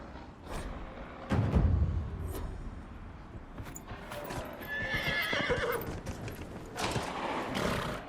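Horse hooves clip-clop in bursts and a horse neighs in Dragon Age: Inquisition, with a purebred chestnut Ferelden Forder horse, the sounds fairly close over quiet ambient game audio.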